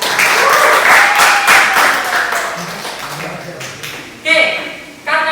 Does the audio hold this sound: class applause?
yes